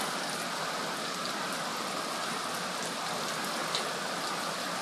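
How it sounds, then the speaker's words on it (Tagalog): Steady rain falls on a garden with plastic nearby, a dense, even hiss of drops that fills the whole stretch at a moderate level. "Naulan."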